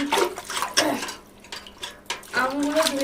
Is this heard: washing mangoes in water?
yes